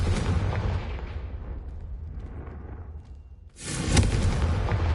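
A Confringo fire spell blast in Hogwarts Legacy lands as a loud, full explosive boom. It fades into a low rumble, then a second sharp burst erupts near the end.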